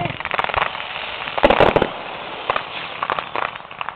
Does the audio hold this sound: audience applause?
no